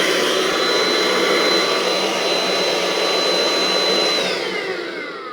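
Craftsman V20 cordless stick vacuum running loud and close with a steady high whine, then spinning down as it is switched off near the end.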